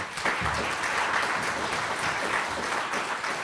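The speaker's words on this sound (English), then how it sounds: "Maybe Taki give a round of applause, appreciation." Audience applause during a talk on eldercare, a dense continuous wash of clapping from a crowd, steady and fairly loud throughout.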